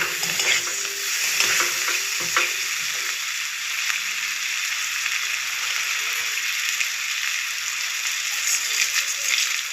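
Turmeric and Kashmiri chili powder are stirred in a hot pan for a prawn cauliflower curry, giving a loud steady sizzle with scraping strokes throughout and no talking.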